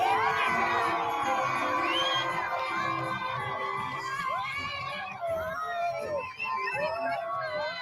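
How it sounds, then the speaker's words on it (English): A crowd cheers, whoops and shouts continuously to welcome a judge arriving at a Christmas light competition, with excited high voices carrying throughout at full volume. "Look at that crowd. Now, that's a good crowd."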